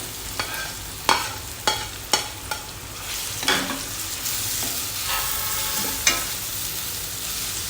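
Boiled raw bananas stirred in a frying pan with coriander, a steady sizzle punctuated by a series of sharp spoon clacks against the pan, with no speech.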